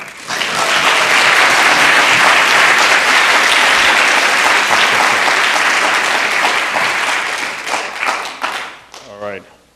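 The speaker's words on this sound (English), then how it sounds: "please give a warm round of applause for Jorge." Warm audience applause fills a public library event hall, steady and sustained clapping from a sizable crowd that fades out near the end as a voice begins speaking.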